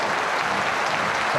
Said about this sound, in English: Applause, due applause from the home fans